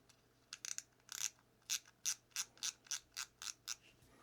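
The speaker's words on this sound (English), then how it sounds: "let's put this spool tension knob on here" Spool tension knob being screwed onto a Lew's baitcasting reel during a rebuild, a series of about a dozen small, crisp clicking ratchet ticks in a steady rhythm, close and quiet, no talking.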